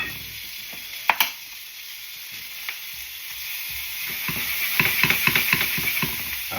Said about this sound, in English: And we're just really getting some heat on that garlic.